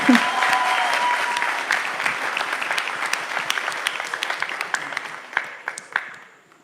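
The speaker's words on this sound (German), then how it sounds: "Ein Applaus für Gott, was Gott in ihr sein Leben hat." A church crowd applauds loudly, the clapping thinning into scattered claps before fading out.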